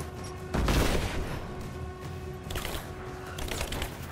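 Gunfire in Rise of the Tomb Raider arrives in short bursts, a loud volley near the start and fainter clusters of shots later, over a low steady game hum.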